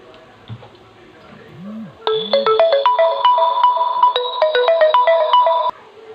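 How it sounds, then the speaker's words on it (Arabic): A phone ringtone plays a bright, repeating melodic pattern for several seconds in a home kitchen where tomatoes and onions are cooking, starting abruptly and stopping cleanly, fairly loud and close, with brief background sounds before it begins. "اليوم العالمي للرنات."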